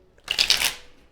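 Tarot cards being shuffled for a psychic reading, a single quick riffle of papery flutter that rises and fades within about half a second, close to the microphone and with no talk.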